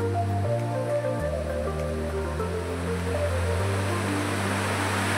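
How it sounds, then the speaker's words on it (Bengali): Cold mountain waterfall stream on Parasnath Hill, Jharkhand, rushing continuously in a loud, close, unbroken roar of churning water, with a low steady hum running underneath. "ঝর্ণার স্রোত"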